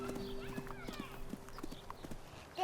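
A horse moves quickly on a Maori homestead, its hooves beating a steady, rapid clip-clop rhythm close by, with a faint whinny-like tone in the background.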